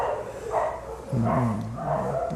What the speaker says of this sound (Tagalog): Makadidinig nyo yung mga aso sa tapat namin nag-aaway.